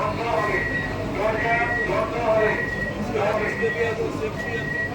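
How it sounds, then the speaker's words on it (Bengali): Steady low rumble of an air-conditioned electric local train departing Sealdah station, with a continuous mechanical hum and some muffled chatter in the background. "ট্রেন কিন্তু ডিপার্চার করছে শিয়ালদহ রেলওয়ে স্টেশন থেকে"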